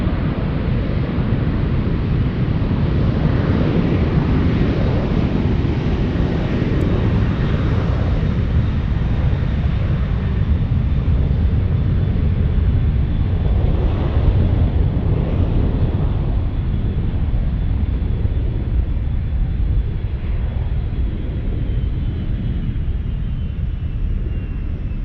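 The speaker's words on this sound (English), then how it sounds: "the 737 on the move, cleared for takeoff" A Boeing 737 airliner powers up for takeoff at San Francisco airport, its jet engines a continuous loud, broad roar heard from a distance, mixed with wind buffeting the microphone.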